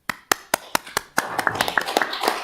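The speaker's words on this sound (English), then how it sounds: "give them a big applause." Sparse, separate hand claps at a council meeting open the moment, then thicken into brief, moderate applause from a small group in a meeting room.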